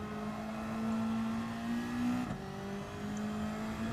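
A Toyota Supra race car in a racing video game holds a steady engine drone with clear harmonic tones, briefly shifting pitch midway as if changing gear, then continuing at an even, moderate level with no talk.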